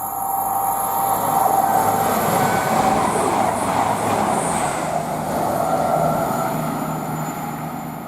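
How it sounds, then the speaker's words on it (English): A Voyager train running from Newcastle to Reading rushes past at Tamworth on the West Coast Main Line, a loud, near rumble that swells and then slowly eases over about eight seconds, with no voices. "we've got hopefully a very fast Voyager heading from Newcastle to Reading"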